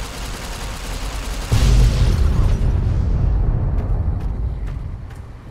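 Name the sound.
Fat Man nuke explosion in the video game Fallout: New Vegas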